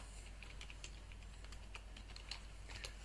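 Light, quick keystrokes on a computer keyboard, an irregular patter of soft clicks, close and quiet, with no talking.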